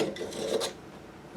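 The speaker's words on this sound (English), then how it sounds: "fit that in the pipe and just give it a little spin around to remove any burrs" A deburring tool is spun around inside a cut pipe end during a hot water tank replacement, giving a short, close scraping rasp in quick strokes.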